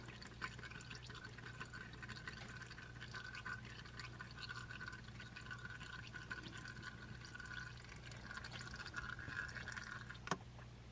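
Engine oil drains from a Kubota ZG123S zero-turn mower's HST into a pan, a faint, steady liquid trickle under a low constant hum, with a single small clink near the end and no talking.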